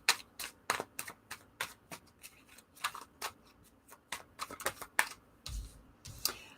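Tarot cards being shuffled for a reading: a quick run of crisp, close riffling snaps and soft slaps in uneven bursts, with short pauses between shuffles.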